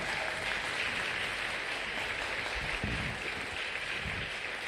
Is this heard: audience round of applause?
yes